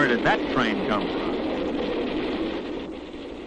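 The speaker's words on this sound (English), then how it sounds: "As this train approaches, let's see how close it comes before we hear it." An approaching train rumbles toward a railroad crossing in a 1959 safety film, a steady low roar that builds and holds throughout. Brief high-pitched sounds rise near the start, and a voice may speak over it.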